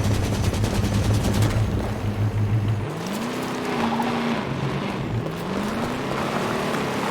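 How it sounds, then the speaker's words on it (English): Gunfire from a Warthog vehicle in the Halo 5: Guardians video game, a loud continuous rapid rattle over a rumbling, revving engine that shifts pitch as the vehicle drives on. "Warthog guns just getting started."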